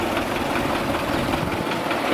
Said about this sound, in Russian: Трактор на нее едет.